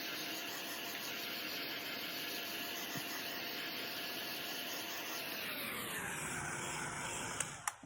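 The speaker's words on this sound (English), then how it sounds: "With my heat gun." Heat gun blowing air to dry paint on a handmade butterfly card, a steady continuous whoosh that runs loud and close, then its pitch drops near the end before a couple of sharp clicks.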